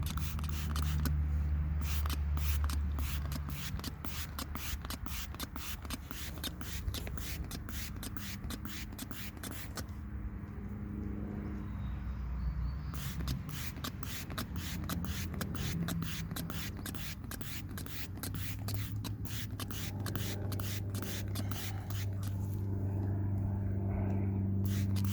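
Cleaner sprays repeatedly onto a K&N drop-in air filter from a 2015 Subaru WRX, a series of quick hissing bursts close by, with brief pauses between squirts.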